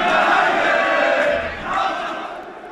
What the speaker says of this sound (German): Sehr toller Jubel der Fans aus Tirol.